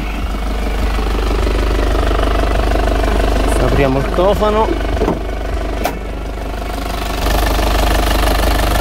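A Fiat Ducato 2.3 van engine idles to warm its oil, a loud steady low drone with a faint knocking rhythm throughout, while someone speaks over it partway through.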